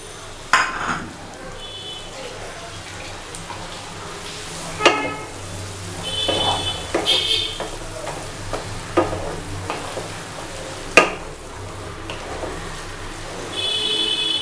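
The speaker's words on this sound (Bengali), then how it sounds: "ভালো করে কষতে হবে।" Spice paste for a prawn and fenugreek curry frying in a pan, a close steady sizzle broken by spatula scrapes and occasional clinks of utensil on metal, with no talking.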